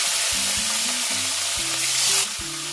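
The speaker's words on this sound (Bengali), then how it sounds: "একইভাবেই বাদ বাকি মাছগুলো ভেজে নেব।" Pieces of catla fish fry in hot oil, giving a steady broadband sizzle, while a melodic tune plays over the frying.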